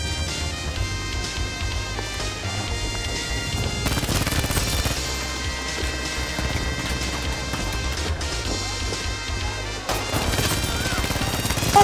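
Dense gunfire in Battlefield V on PS4 crackles over a busy, loud soundtrack, with sharp bursts and crashes repeating throughout and a heavier flurry near the end.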